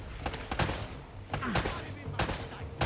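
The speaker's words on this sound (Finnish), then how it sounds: "Ylhäältä tulee jostain luoti." Gunfire in the video game Uncharted: Drake's Fortune, a series of sharp shots in irregular bursts over game noise, with someone talking faintly underneath.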